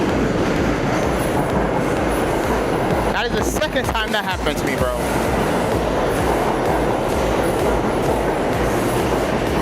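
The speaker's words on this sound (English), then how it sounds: "Which means it's probably this train right here." A subway train arrives at Atlantic Avenue–Barclays Center station with a loud continuous roar, wheels clattering and squealing on the rails, while someone talks briefly over the noise midway.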